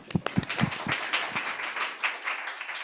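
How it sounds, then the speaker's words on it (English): Audience at an international academic conference on the Kyoto School claps in a dense, steady round of applause, fairly close and lasting the whole stretch, with a voice briefly audible near the start. "you all deserve a round of applause as well"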